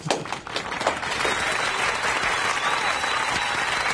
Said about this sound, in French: applaudissements, s'il te plaît.